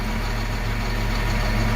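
Winch engine running at a steady idle, a loud, continuous low rumble with a regular pulsing throb and a constant hum, no other sounds.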